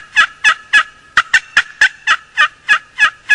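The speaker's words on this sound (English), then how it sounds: "I get the hen fired up by cutting, and the gobbler's gobbling, and the hen is cutting back at me" Wild turkeys calling: a loud, evenly spaced series of about a dozen sharp, raspy yelps with a brief quick flurry in the middle, gobbler and cutting hen, close and clear with no talking.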